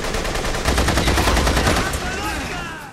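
Gatling gun fire in The Saboteur: a sustained, loud, rapid mechanical stream of shots with an even rattling rhythm, winding down at the end.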